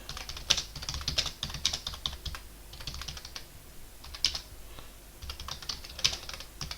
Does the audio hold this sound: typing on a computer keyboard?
yes